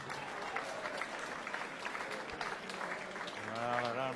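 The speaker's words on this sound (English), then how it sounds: "a round of applause there for Thornton" Darts crowd at the 2012 World Grand Prix breaks into steady applause for Thornton, a dense wash of clapping throughout, with a commentator's voice rising over it near the end.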